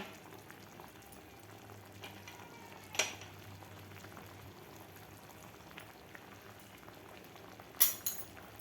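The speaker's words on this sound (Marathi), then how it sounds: "आपल्या डाळीला मस्त अशी उकळे आलेली आहेत" A pot of moong dal bubbles at a low simmer, soft gurgling throughout, with a couple of faint clinks of a utensil.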